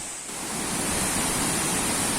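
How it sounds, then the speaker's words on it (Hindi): The Kynrem waterfall in the East Khasi Hills near Cherrapunji, Meghalaya, India, in full spate: a dense, steady roar of falling water that swells in the first moments and then holds constant. "पूरे उफान पर ये झरना चट्टान के साथ साथ ज्यादातर रास्ते तक फैला रहता है।"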